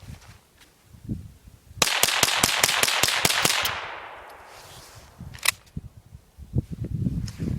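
A Marlin 795 rifle fires a rapid string of about nine sharp, loud cracks, one after another, then one more shot a little later, each report ringing out and dying away.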